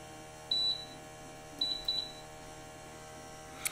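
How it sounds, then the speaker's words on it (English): A GMI Gasurveyor 541 gas detector's alarm gives short high-pitched electronic beeps in a few bursts, one single and then a quick double pair, over a quiet steady hum during a calibration and bump test. "so now we cleared the alarm"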